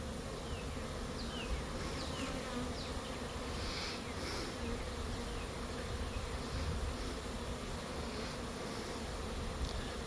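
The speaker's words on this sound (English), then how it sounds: "I like watching the swarms come in." A honeybee swarm arriving at a new hive gives a dense, steady buzzing that fills the clip, loud and continuous with no talk.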